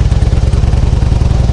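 Close, loud motorcycle engine with a steady, rapid low thumping pulse, heard on a camping tour in Hokkaido near Shiretoko Five Lakes, with no voices over it.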